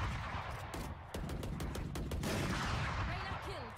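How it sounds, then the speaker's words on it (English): A swarm grenade in the shooter game Valorant: a dense volley of rapid, cracking shots that keeps up without a break, with faint whistling tones at the end. "Placing swarm grenade."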